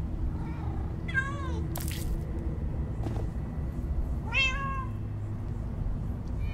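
Several cats meow in the Minecraft Story Mode video game, two distinct rising-and-falling cries over a steady low rumble of game background sound.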